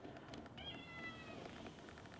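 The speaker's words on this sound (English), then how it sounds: "This is why this cat came up to me." A cat on a porch gives one clear, drawn-out meow, fairly quiet against a low background hum.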